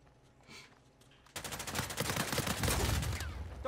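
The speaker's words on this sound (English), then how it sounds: "I like this gun because it's like real rapid fire and pretty accurate." Rapid automatic gunfire erupts in an Uncharted 4 online match, a loud, dense burst of fast shots that starts abruptly after a quieter lead-in and keeps hammering to the end.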